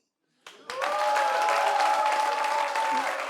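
A studio audience at a talk show bursts into applause after a brief lead-in, swelling to a sustained, full wash of clapping with a faint tonal hum beneath it.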